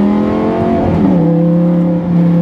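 Lamborghini Gallardo accelerating hard, its engine note climbing in steady harmonic tones, with a sharp drop and a surge again at each upshift; loud and close, no talking.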